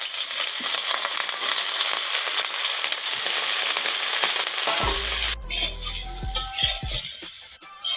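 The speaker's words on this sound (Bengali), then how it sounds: "ব্রোকলিগুলো ভেজে নেব, হালকা ভাজবো," Broccoli fries lightly in mustard oil in a pan, giving a loud, steady sizzle with crackling, then low scraping and stirring knocks as the frying eases.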